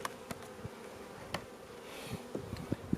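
Honeybees hum steadily and close up while a weak hive is opened for inspection, with a few soft knocks and clicks from the hive boxes.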